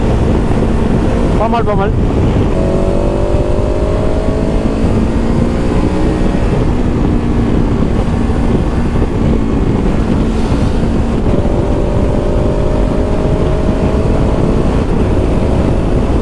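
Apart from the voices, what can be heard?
KTM 1290 Super Adventure S motorcycle accelerating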